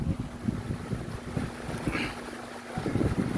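A repaired electric fan runs steadily with a constant whooshing airflow and a low hum, heard close up. A faint tonal drone sits under the rushing air.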